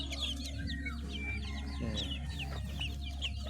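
A group of chicks peck at ripe mango, chirping and clucking continuously at close range over a steady low hum.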